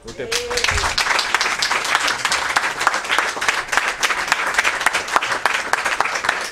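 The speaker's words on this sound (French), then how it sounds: "Vraiment beaucoup d'applaudissements pour le frère Kaloz." An audience at a talk on hip-hop and African historical consciousness breaks into dense, sustained applause. The clapping is loud and continuous throughout, with a brief voice at the start.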